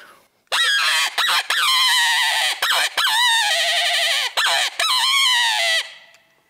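A hand-blown predator hunting call fitted with an extension squeals in loud, wavering, drawn-out cries that imitate a dying hare's distress, broken by short pauses.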